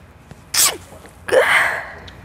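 Two sharp sneezes burst out close to the microphone in a quiet office, the first quick and bright, the second longer with a trailing breathy release.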